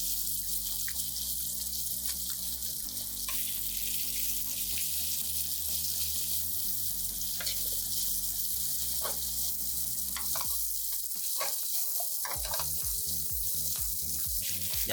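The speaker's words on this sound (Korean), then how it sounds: "이제 준비한 야채들을 넣고 볶아야 돼요." Vegetables stir-frying in chili oil in a pan for a spicy seafood tteokbokki, a loud continuous sizzle with scraping stirs and clatter throughout, no voices.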